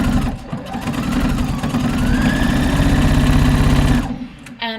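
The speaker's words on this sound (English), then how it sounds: "And this is an edge stitch or a top stitch." A sewing machine runs a continuous edge stitch or top stitch on a boxy harvest-style top, giving a loud, rapid, steady mechanical whirr for about four seconds before it stops, then a brief clatter.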